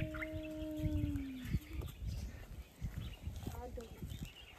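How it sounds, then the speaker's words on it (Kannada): Birds calling along a forest road on a family trek: a long drawn, whistle-like call opens, then scattered chirps and rustling, with faint voices and movement in the background. "Bird sound ಕೇಳಿಸ್ಕೊ."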